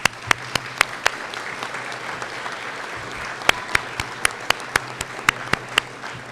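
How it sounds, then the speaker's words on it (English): An audience at a high school graduation ceremony applauds, a dense, steady wash of clapping with scattered louder individual claps standing out over the crowd. "Please give your parents, guardians, families, and friends a resounding round of applause."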